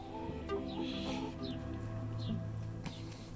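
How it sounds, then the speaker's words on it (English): Chickens cluck and squawk in short scattered bursts in a garden over a steady low hum, moderately close. "Some rowdy chickens."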